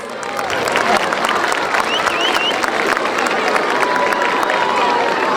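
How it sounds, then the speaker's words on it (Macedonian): Audience applause at a school masquerade carnival in Probishtip, a dense, sustained wash of clapping and crowd cheering with occasional whistles, steady and loud throughout. "Да ги оправиме со уште еден аплауз."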